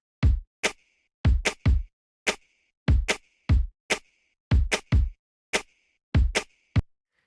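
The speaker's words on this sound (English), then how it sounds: "So the snaps and the kicks all together sound like this." Layered finger-snap samples and kick drums from a pop production sound together as a sparse, dry rhythmic pattern, each kick followed by a crisp snap, repeating evenly with silence between hits.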